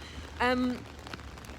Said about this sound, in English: You might not even be able to hear me because of the rain,